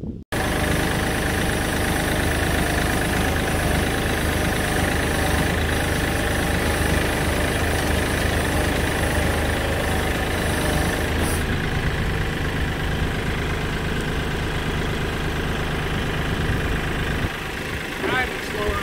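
A vehicle engine idles steadily and close by while the clutch and gears are worked, its low rumble continuous throughout with a slight change partway as it is put into gear; people talk over it.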